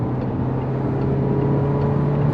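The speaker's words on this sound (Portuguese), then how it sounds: "E aqui eu vou fazer uma tentativa de ultrapassagem, ó." A Peugeot 3008 GT with a 1.6 THP engine accelerates to overtake, its engine drone steady and close with a constant road and cabin rumble beneath for a couple of seconds.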